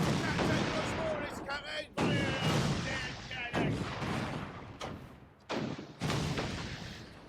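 Repeated booming cannon shots, several heavy blasts in quick succession with pauses between volleys, game-like and punchy, with a voice talking now and then.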